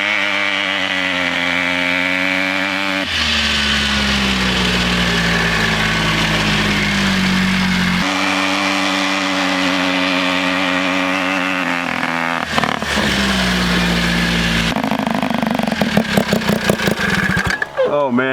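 A turbocharged rotary-engine ATV runs loud and close, its harsh buzzing engine note rising and falling through revs, with abrupt changes and sharp popping bursts near the end.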